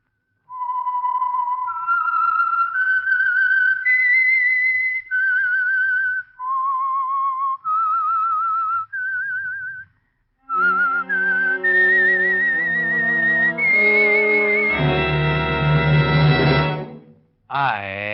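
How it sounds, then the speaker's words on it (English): A signature whistle identifying the Signal Oil radio program The Whistler plays a slow, eerie rising melody of clear whistled notes, then a full orchestra swells in beneath it to a loud, dramatic chord before cutting off. "the signal to listen for is this whistle that identifies the Signal Oil program"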